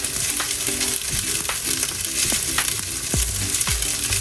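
Hamburger fried rice sizzles loudly in a hot pan, a constant dense frying hiss with repeated scraping and stirring knocks from a utensil, close up and with no talking.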